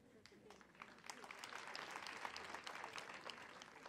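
An audience applauds a speaker at a girls' high school AGM and thanksgiving service, a steady mid-level wash of many hands that builds and holds, with a voice talking over it.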